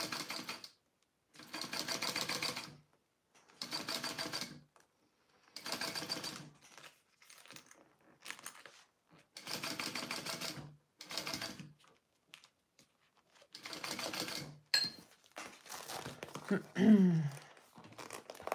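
A sewing machine stitches clear and jelly vinyl pouches in repeated bursts of fast, close mechanical whirring, each run a second or two long with short pauses between, ending with some crinkling plastic handling.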